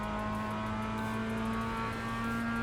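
A race car engine drones at Summit Point in a racing game, a steady loud tonal hum holding an even pitch throughout with no speech.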